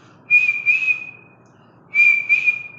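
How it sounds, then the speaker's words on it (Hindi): A person whistles two clear, steady high-pitched phrases, each of two short bursts, separated by a pause of about a second, close and alone with no talking. "चलिए मैं सिखाता हूं आपको सीटी बजाना।"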